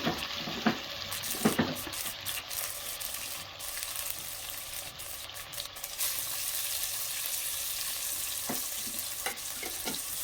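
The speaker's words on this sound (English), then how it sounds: "My onions are ready, so I will go in with my tomatoes." Tomatoes and onions fry in a pan with a steady close sizzle, broken by occasional scraping and stirring knocks.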